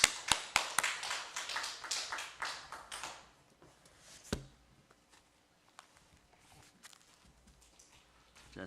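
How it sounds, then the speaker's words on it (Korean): A church congregation claps together in a large room, loud and dense for a few seconds, then fades to scattered claps and a few taps. "하나님께 영광의 박수 돌리겠습니다."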